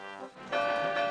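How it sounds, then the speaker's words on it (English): A Thomas & Friends toy engine's bell rings in repeated bright, sustained tones, loud and close, with no talking over it. ""Listen to my bell, Sir Handel," whooshed Duncan."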